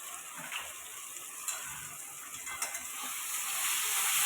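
A ground spice paste of cashew, poppy seed, ginger, green chilli and tomato sizzles in a hot pan, a continuous close hiss with small crackles that grows slightly louder toward the end.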